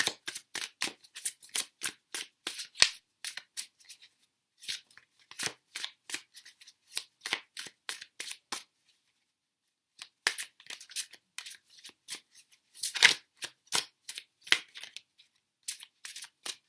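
Tarot cards being pulled out and shuffled, a close run of crisp riffling snaps in quick bursts with short pauses between them and no talking.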